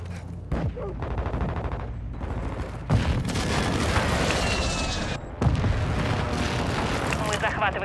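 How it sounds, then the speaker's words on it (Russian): Allied airstrike explosions thunder in Call of Duty Warzone 2.0, a continuous roar of heavy booms and crackling gunfire that swells after a brief lull and surges again near the end, with a voice calling out over it. "Союзники наносят авиаудар!"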